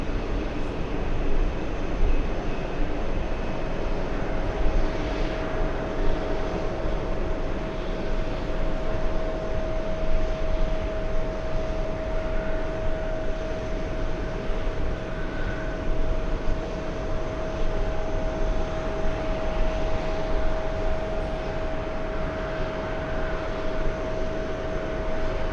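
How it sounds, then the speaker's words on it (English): Etihad airliner arriving from Abu Dhabi and landing at JFK, a steady broadband jet roar with a faint high whine held at constant loudness throughout, no voices. "Etihad flying in from Abu Dhabi"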